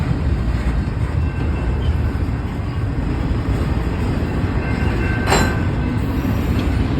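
A long freight train rolls steadily past a crossing in Fosterville, Tennessee, its loud continuous rumble and wheel noise filling the scene, with a brief squeal of wheels near the end.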